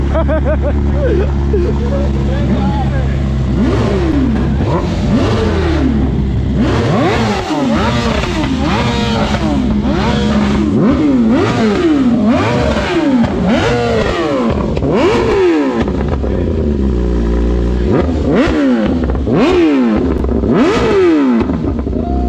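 A BMW S1000 RR superbike engine revs hard over and over, each throttle blip rising and falling in pitch, loud and close, with the repeated roaring sweeps filling the whole stretch.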